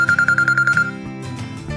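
A repeating electronic phone alarm tone beeps in quick regular pulses, loud and slightly resonant from the phone sitting inside a glass, then stops, leaving a low background hum.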